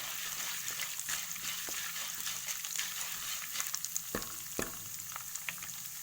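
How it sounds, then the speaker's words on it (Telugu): Cumin, mustard seeds, urad dal and chana dal frying in hot oil while being stirred, a constant close hiss with a few sharp spoon knocks near the end, no talking. "జీలకర్ర ఆవాలు వేసుకున్నాం కదా, మినపప్పు, శనగపప్పు వేసుకున్నాక మంచిగా కలుపుకోవాలి."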